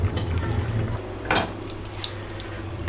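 Chicken tikka donuts frying in hot oil, a steady close bubbling sizzle with a brief louder splash of crackle and a few light clinks near the middle.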